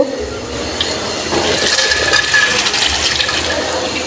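Soaked chickpea lentils are poured into a hot cooking pan of fried spices, a close, steady rushing and pattering spill with a light sizzle that lasts several seconds without talk.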